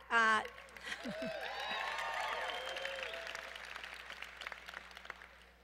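At a 2014 Smith MBA commencement, an audience starts clapping after a brief voice, and the applause builds into a moderate, steady patter that slowly thins out.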